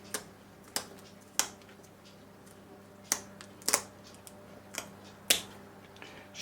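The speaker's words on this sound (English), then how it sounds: "You get a pair of shears and cut off this." Shears snip the spiky fins off a bass in a kitchen, giving sharp isolated clicks at irregular intervals over a faint steady background hum, without any talking.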